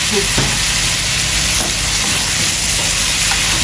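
Eggplant sautés in a hot pan for a dish with pangas fish. A steady, loud sizzle hisses throughout, broken by a few soft scrapes of stirring.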